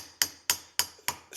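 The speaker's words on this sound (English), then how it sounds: "somewhat aggressive with this little hammer." Small peen hammer striking a heavy cork gasket on a fuel tank: five sharp, evenly spaced taps in quick succession, close and crisp, each ringing out briefly.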